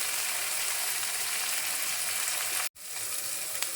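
Kashmiri chilli powder hits hot oil in a cooking pan, giving a steady, close hiss of sizzling frying that runs throughout, with one brief drop-out near the end before the sizzle resumes.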